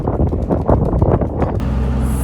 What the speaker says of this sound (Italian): Si è alzato veramente tanto il vento